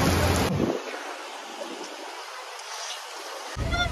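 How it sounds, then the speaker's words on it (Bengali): Evening rain falls over Darjeeling, a steady broadband hiss of drops that thins for a few seconds before swelling again, with no voices. "বৃষ্টি স্নাত দার্জিলিং এর সন্ধ্যেবেলা"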